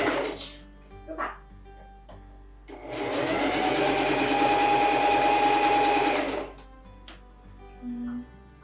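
Sewing machine running a straight stitch on fabric for a knot headband, one steady whirring run of about three seconds, close and loud. Brief clicks and a dog's yips come before and after it.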